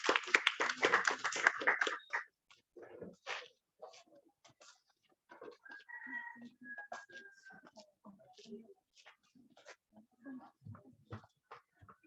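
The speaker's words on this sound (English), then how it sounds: "A round of applause," Audience applause at a free Wi-Fi launching ceremony at an elementary school: a dense burst of clapping for about two seconds, then quieter talking.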